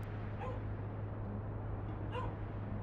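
A dog barks twice, well spaced and at a distance, faint over a steady low hum and background noise.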